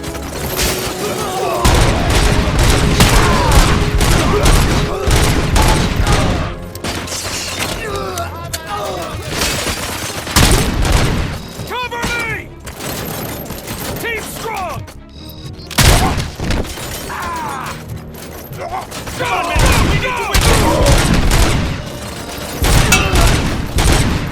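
Dense gunfire from the RoboCop: Rogue City video game, continuous loud bursts, impacts and booms with shouted voices mixed in throughout.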